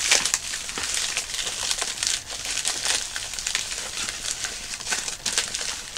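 Cardboard packaging box for a monthly video game subscription being pulled open, a steady run of close crinkling and crackling with sharp tearing bursts throughout, no talking.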